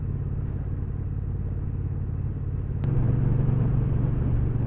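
Triumph T120 motorcycle, a big lumpy twin, ridden gently through town traffic on the outskirts of Norwich, its steady low engine rumble close and constant, swelling slightly louder partway through.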